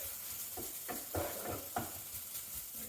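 An egg cooking in a pan, giving a low steady sizzle with a few soft bursts of spatter and scraping, close by and fairly quiet, with no voices.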